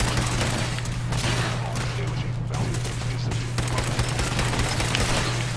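Dense, continuous rapid gunfire aimed at synths during a Fallout 4 battle, loud and sustained with bursts overlapping, under a constant low hum.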